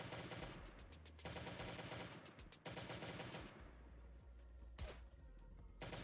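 M16 rifle fire in the video game Last Day on Earth: Survival rattles in loud, rapid sustained bursts with only brief breaks, with no talking.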